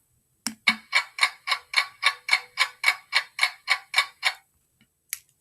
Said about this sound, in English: Here's the clock.